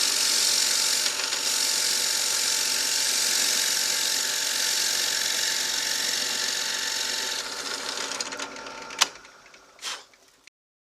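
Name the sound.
drill press running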